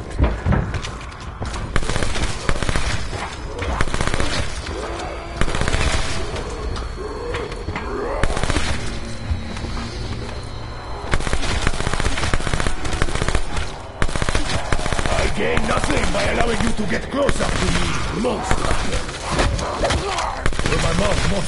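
Heavy gunfire barrage from Call of Duty Black Ops 4 Zombies, with rapid bursts of automatic shots over a dense, chaotic mix of game effects and music. Loud throughout, broken by short lulls.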